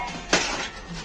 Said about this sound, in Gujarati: કેટલી વાર લાગશે વાસણો ઘસતો?